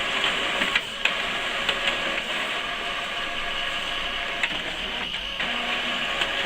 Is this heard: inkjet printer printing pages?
yes